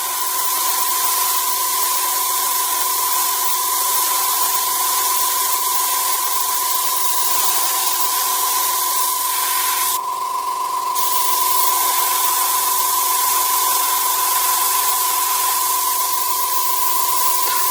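Spray can painting a WWII German jerry can model, a loud steady close hiss that holds almost unbroken with one brief change partway through.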